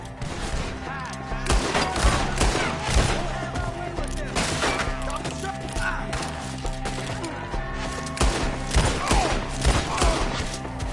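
Rapid exchanges of gunfire from the video game Red Dead Redemption 2, sharp shots cracking in irregular clusters amid thuds and splintering wood, with voices shouting underneath.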